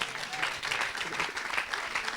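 A church congregation applauds together, a dense and steady patter of clapping that lasts a couple of seconds, heard a little way off.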